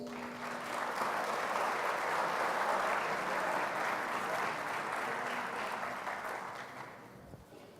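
A round of applause for graduating seniors and future servicemen and women at an armed services ceremony, building quickly into a broad sustained crowd clapping that fades away near the end, recorded fairly quietly.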